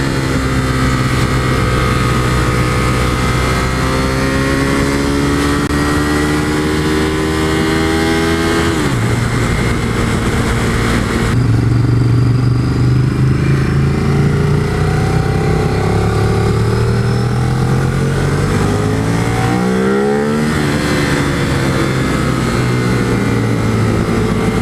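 Ducati 848 Streetfighter motorcycle on its stock exhaust, engine loud and close as it revs and pulls up through the gears, with a gear change after a few seconds and steady engine tone between climbs.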